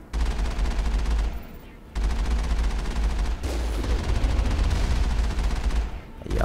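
Sustained gunfire from a firefight in the video game Mass Effect, loud and dense with repeated bursts and a brief lull, running through nearly the whole stretch with no talking.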